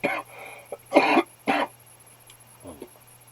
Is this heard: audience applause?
no